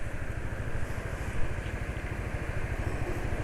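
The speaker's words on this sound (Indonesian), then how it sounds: "Halus suara mesinnya sekarang." A motorcycle engine idling smoothly after an oil change to Fukukawa 20W50, with a close, even low-pitched putter and a steady, unbroken rhythm.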